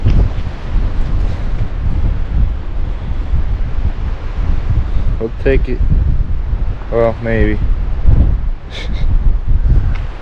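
Loud, continuous wind buffets the microphone with a low rumbling roar in the Arizona backcountry, while someone speaks briefly partway through.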